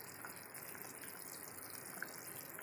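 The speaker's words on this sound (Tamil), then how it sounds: "இது பாருங்க, குழம்பு நல்லாவே கொதிச்சிருச்சு." A pot of Tamil fish curry bubbles on the stove with a faint, steady simmering hiss and occasional soft pops throughout.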